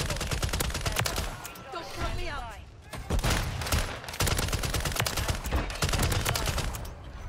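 Raal MG machine gun in Call of Duty MW3 fires in rapid, dense bursts with heavy booming reports, nearly nonstop, while someone talks over the gunfire.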